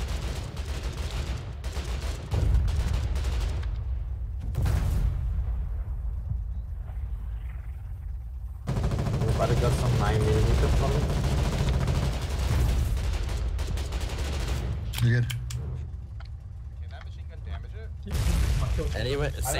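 Gunfire and heavy blasts in the war game Foxhole, rapid bursts and loud booms coming in waves with stretches of quiet, people talking over the fighting.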